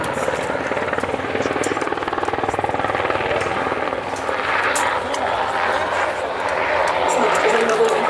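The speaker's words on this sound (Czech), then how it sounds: "speciálně upravené vrtulníky Black Hawk" A specially modified UH-60 Black Hawk helicopter flies at an air show, its loud, steady rotor and engine roar continuous throughout, with people talking underneath.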